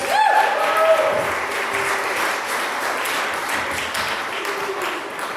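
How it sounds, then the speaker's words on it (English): Guests at a wedding reception applaud the toasters, a steady crowd clapping with a few cheers and a clink near the start, fading slightly while voices murmur underneath. "Give a round of applause to both of our toasters."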